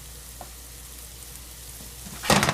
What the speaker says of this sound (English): I'm going to put some shallots in there.